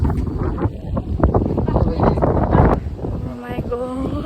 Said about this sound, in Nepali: यहाँ हावा चलिरहेको